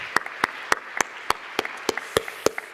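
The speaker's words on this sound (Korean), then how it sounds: "우리 박수 한번 해주시죠" A church congregation claps during a Korean worship service: about a dozen crisp, distinct claps in a quick, slightly uneven rhythm, sounding like a small group nearby rather than a dense wash of applause.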